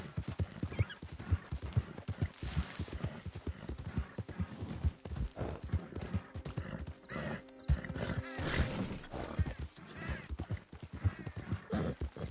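A horse gallops in Red Dead Redemption 2 with steady rapid hoofbeats on the ground, close and continuous, along with a brief whinny.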